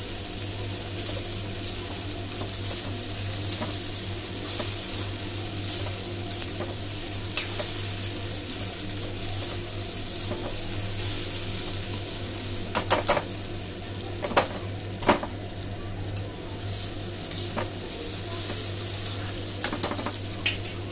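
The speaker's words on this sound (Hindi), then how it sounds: "जब आपका थोड़ा फ्राई हो जाए तो इसमें लास्ट में मूंगफली और हरी धनिया" Poha frying in a pan as peanuts and chopped coriander are stirred in, giving a steady close sizzle with occasional sharp scrapes and clinks of the spoon, no voices.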